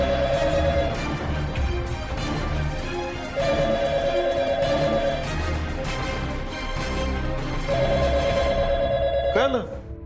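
A telephone rings in repeated electronic bursts with pauses between them, over background music in a Marathi TV drama scene, and ends with a brief whoosh.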